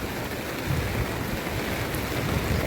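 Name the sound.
heavy monsoon rain over a waterlogged housing society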